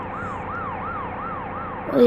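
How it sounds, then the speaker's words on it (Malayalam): A wailing ambulance siren in a bus simulator video game sweeps up and down in steady repeated cycles, clear and moderately loud, ending in a brief louder burst of noise. "ഫ്രണ്ടിലൊരു ആംബുലൻസ് പോകുന്നുണ്ട്"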